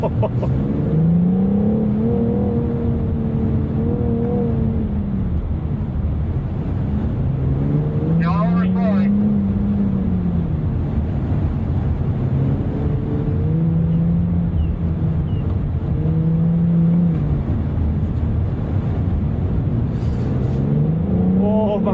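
A BMW 440i drives hard on a race track, its engine droning loudly and steadily with rising and falling pitch sweeps as it accelerates and shifts, close and continuous throughout with no clear talk on top.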